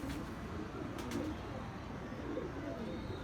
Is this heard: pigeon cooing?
yes